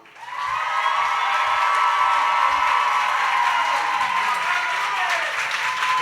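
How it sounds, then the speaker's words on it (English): Audience at a live Valentine's storytelling show at DNA Lounge breaks into loud, sustained applause with cheering and whoops, holding steady for several seconds. "let's please give a round of applause for Hope."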